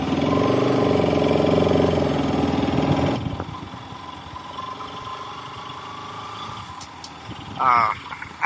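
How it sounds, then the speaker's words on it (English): A Bajaj Pulsar 200RS motorcycle engine roars loudly in a rev for about three seconds, then drops to a quieter idle with a short rise near the end; a voice speaks faintly in the background. "the sound is, the engine really likes to rev"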